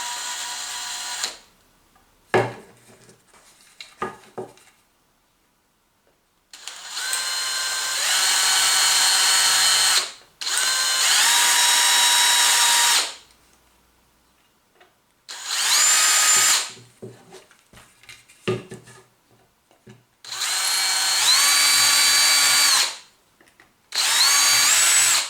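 A power drill smooths a surface on a Xiaomi M365 electric scooter during a mudguard and light repair, running in several loud, close bursts of a few seconds each, separated by quiet pauses and small handling knocks.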